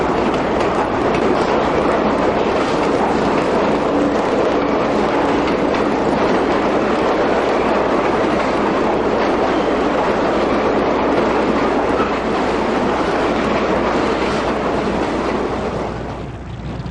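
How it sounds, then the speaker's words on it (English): Subway trains roar through a New York City transit tunnel in a continuous, loud rush of wheels and rumble, with rhythmic clatter sustained throughout before easing slightly at the end. "We have trains going by."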